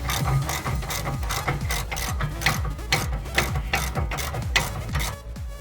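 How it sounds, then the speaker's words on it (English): A ratcheting wrench clicks rapidly and continuously while backing out bumper bolts on a Jeep, its pawl ticking in quick steady bursts, close and loud, with no one talking. "Ratcheting wrench."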